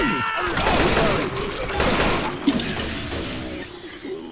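Rapid gunfire in the Left 4 Dead 2 zombie shooter, dense bursts of shots with crashing impacts running through the whole stretch, with players talking over the action.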